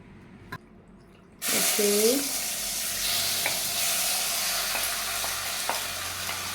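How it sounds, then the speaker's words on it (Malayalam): Marinated squid drops into hot oil with a sudden loud burst of sizzling frying that holds steady, with a few brief stirring clinks along the way. "നമ്മൾ മാരിനേറ്റ് ചെയ്ത് വെച്ചിരിക്കുന്ന കൂന്തലാണ് ഫസ്റ്റ് ഇടാൻ പോകുന്നത്"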